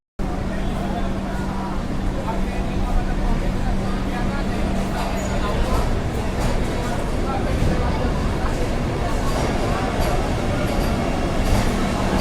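Continuous loud rumble and rattle of a Vande Bharat express train bound for Amritsar running close by on the tracks, with a steady low hum throughout.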